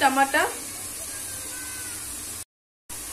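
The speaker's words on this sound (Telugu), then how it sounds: "ఇలా మిక్స్ చేసుకున్నాక కాసేపు ఫ్రై అవనివ్వాలి." Egg curry masala fries in a pan with a steady, close sizzle, a brief voice at the start and a short dropout near the end.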